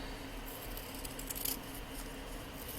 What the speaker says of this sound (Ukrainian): Я ось так цілою партією вирізаю листочки